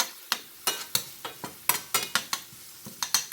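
A spatula stirs vegetables frying in a pan, giving about a dozen sharp scraping knocks in an uneven rhythm over a soft, close sizzle.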